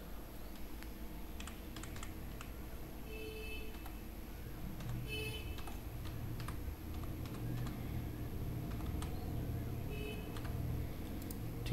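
Steady typing on a computer keyboard while building a web page header in HTML, with quick key clicks in short runs and pauses, close and moderately loud over a low background hum, with no talking.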